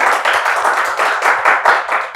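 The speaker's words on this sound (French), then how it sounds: "On va les applaudir très fort." A studio audience on a talk show about mental health in Côte d'Ivoire claps loudly for two guests, with close, brisk hand claps in uneven bursts swelling and dipping over two seconds.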